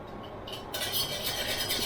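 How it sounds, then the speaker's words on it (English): A utensil scrapes the bottom of a stainless steel pan while deglazing a duck pan sauce, a close, steady scraping and sizzling that grows louder partway through. "we're just going to get everything up off the bottom of the pan and deglaze"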